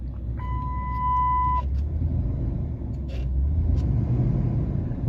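Car engine idling steadily just after a fuel pump replacement, a low continuous rumble close by with a brief high whine near the start and no talking.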